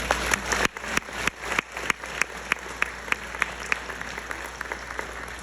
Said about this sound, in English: How about a round of applause for the Gray family?